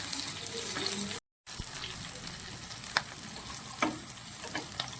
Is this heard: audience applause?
no